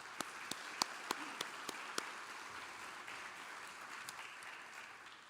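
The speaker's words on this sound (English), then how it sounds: "If I can have a round of applause for everyone, that'd be great" Faint, distant applause from a crowd at a sports hall of fame ceremony, a soft continuous patter of clapping with a few sharper claps standing out near the start.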